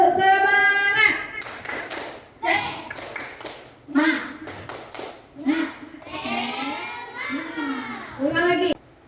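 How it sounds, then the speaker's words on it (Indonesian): Schoolchildren in a classroom lesson perform a rhythmic spirit clap, bursts of sharp hand claps in set patterns alternating with the children's chanting voices, close and lively. "Coba tepuk semangat."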